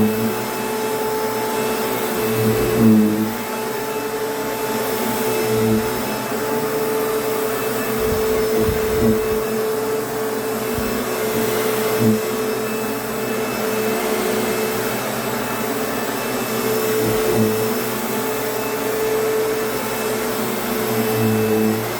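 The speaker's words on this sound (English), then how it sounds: "we're going to actually run this vacuum cleaner on." A 2002 Kenmore Progressive direct-drive upright vacuum cleaner runs steadily at close range, a continuous motor whine and airflow roar with faint rhythmic thumps as it is pushed, no talking.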